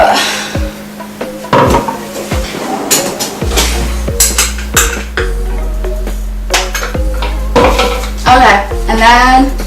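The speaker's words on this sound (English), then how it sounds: "In a big bowl, just put your sift in the bowl and get all this" A metal sifter clanks and clinks against a big bowl while making macarons, a series of sharp, close metallic knocks and rattles in an irregular rhythm, loud in a quiet kitchen.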